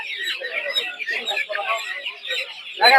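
Several Kadaknath chickens cluck and squawk close up over a steady crowd murmur at a poultry market in Narsingdi, Bangladesh, with a louder squawk near the end.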